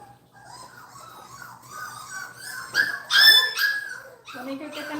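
A Nova Scotia Duck Tolling Retriever puppy whimpers and whines in rising squeals, breaking into a few sharp yips and barks, close and fairly loud.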